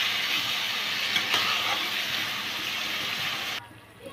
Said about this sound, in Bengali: দিয়ে এবার ভালো করে মাংসটাকে আমি কষাবো।